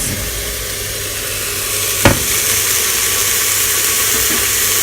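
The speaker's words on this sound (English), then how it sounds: "Next I'm gonna add the beans and the juices." Beans and their cooking juices are tipped into a hot pot for white bean soup, giving one brief splashing hit midway over a steady, loud hiss of frying that runs throughout.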